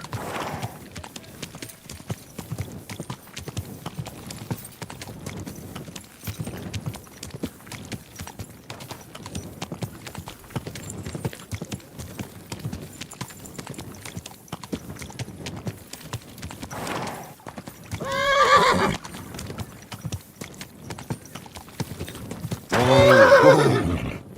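A horse walks slowly with a steady clip-clop of hooves close by, then gives two loud whinnies toward the end.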